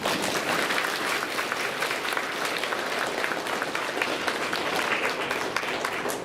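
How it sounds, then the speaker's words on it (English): An audience at a school Veterans Day program gives a round of applause, a sustained, even patter of many hands clapping at moderate distance for several seconds. "why don't you give a round of applause for him?"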